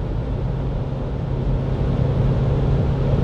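Inside a Peugeot Rifter 1.5 BlueHDi EAT8 cruising at 150 km/h, a steady low road rumble and soft wind hiss fill the cabin evenly, without a break.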